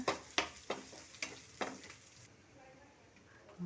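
Prawn curry masala paste fries in hot oil in a pan, with a spoon scraping through it in a steady series of strokes over a soft sizzle that continues after the stirring stops.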